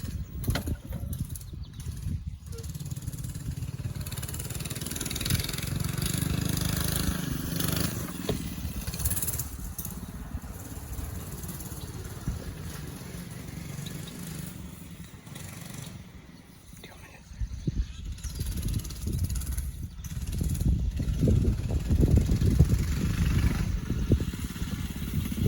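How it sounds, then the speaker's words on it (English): A pit bike engine runs off-road outdoors, a steady buzzing drone with clattering and scraping, swelling louder near the end, with voices talking at times. "Now we're gonna do some off-roading with the pit bike."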